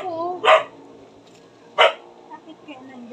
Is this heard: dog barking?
yes